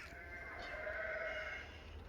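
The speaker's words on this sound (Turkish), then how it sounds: "Bu arada koyunlar geldi galiba." A single sheep gives one drawn-out bleat from a short distance, steady for about a second and a half against a quiet outdoor background.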